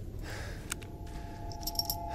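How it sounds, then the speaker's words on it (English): Metal dog tag jangling as it is picked up in the Blair Witch video game, a few light metallic clinks and a brief rattle over a quiet low background hum. "It's a dog tag?"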